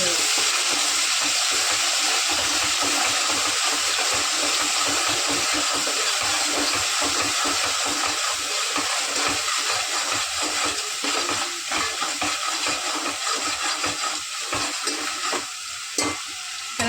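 Onion and coconut masala paste fries loudly in an oiled pan, a steady close sizzle with scraping stirs breaking through toward the end and no voices.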